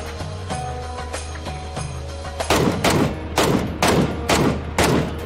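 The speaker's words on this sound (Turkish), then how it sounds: "Totti'yi vurduk arkadaşlar." Gunfire in the video game PUBG, with a steady low hum giving way to a run of loud, rapid bursts of shots.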